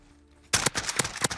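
AS VAL rifle with an attachment fired in a video game, a sudden burst of about six to seven rapid suppressed-sounding shots after a quiet moment, close and punchy.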